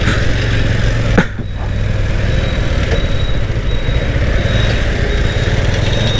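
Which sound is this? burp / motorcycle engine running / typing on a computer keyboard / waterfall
motorcycle engine running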